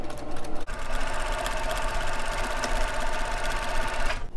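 A sewing machine chain-pieces half-square triangle quilt blocks, whirring loudly and continuously at close range with a dense, steady needle rhythm and a brief hitch near the start.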